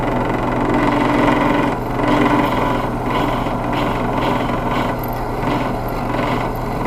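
A drill bit cuts slowly into a small pendant piece, giving a steady, close motor whine with a slightly rough grinding texture that dips briefly a couple of times.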